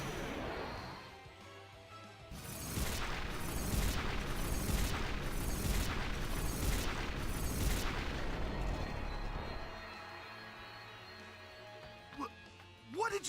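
Explosion from two bomb cores combined in the game Final Fantasy X: a loud, rumbling blast made of several rapid successive booms lasting several seconds, then fading back to quieter background.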